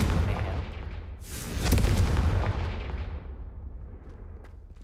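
In Hogwarts Legacy, a Confringo blast curse erupts as a single loud, rumbling explosion that swells sharply, then trails off in a long fading roar with no voices.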